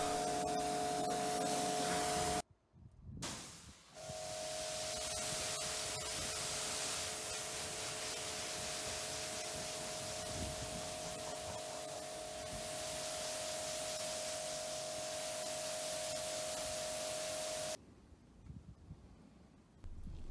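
A pressure washer rinses a car before snow foam, a steady close spray hissing for about fifteen seconds, broken by a brief cutoff near the start and a quieter stretch at the end, with no voices.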